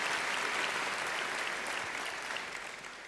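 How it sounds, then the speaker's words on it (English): A large audience at the 2024 Kavli Prize award ceremony claps in a dense, sustained round of applause that tapers off slightly toward the end. "Give them another round of applause, please."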